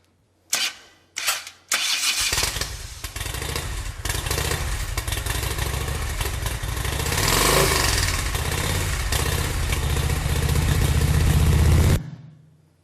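A motorcycle engine starts with a couple of short bursts, then catches and runs steadily, loud and close, revving slightly before cutting off abruptly near the end.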